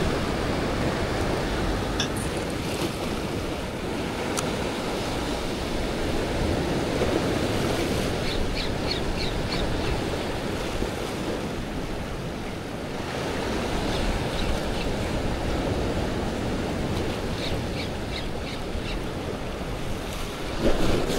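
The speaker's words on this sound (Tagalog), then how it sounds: "Lakas na ng alon." Strong ocean waves surge and wash continuously at sea while fishing from a boat, with steady wind buffeting the microphone and no voices.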